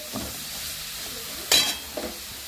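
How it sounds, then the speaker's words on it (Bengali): Water splashed into a pan of sizzling spices for a flour-dumpling vegetable curry, giving one sudden bright hiss and splutter, with a fainter spatter just after, over a low background. "একটু জল দিয়ে দিই, তাহলে আমার মশলাটা পুড়ে যাবে না।"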